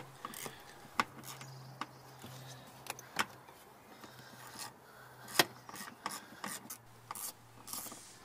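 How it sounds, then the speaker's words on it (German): A Phillips screw is unscrewed from the interior panel of a car door, heard as close, faint scraping and rasping of a screwdriver with scattered sharp clicks and a low steady hum underneath, no voices. "Eine Kreuzschlitzschraube, einfach mal abdrehen."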